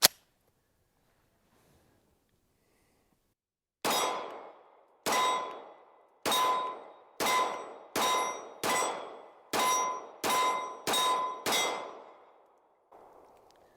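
A CZ pistol fires ten rounds of hollow point ammunition: ten loud, sharp reports with ringing tails, evenly spaced after a quiet start and speeding up slightly toward the end, with a fainter sound trailing at the close.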